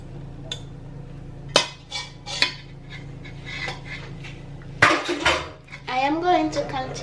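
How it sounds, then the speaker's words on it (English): Breadfruit being mashed in a bowl with a spoon, with honey in the mix: scattered clinks and scrapes of metal on the dish, irregular knocks, and some voice-like sounds near the end. "I am going to continue to mash this"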